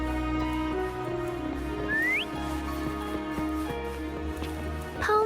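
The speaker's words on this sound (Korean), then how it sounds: "휘파람으로 파움을 불러보시겠어요?" A brief rising whistle in the Wuthering Waves video game calls Paum, sounding once, clear and fairly loud over steady background music.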